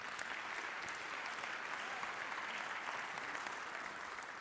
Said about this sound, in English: Yes, do give it a round of applause.